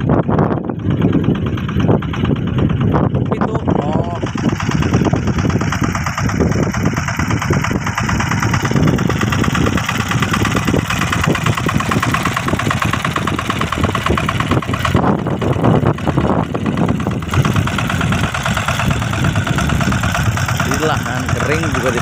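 A loud tractor engine idles steadily in a dry peanut field with a rough, chugging rumble throughout, mid-pitched and close, with some talking faintly mixed in.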